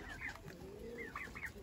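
Japanese chickens for sale at a market give soft, short clucks and warbling calls in a few close bursts against quiet background noise.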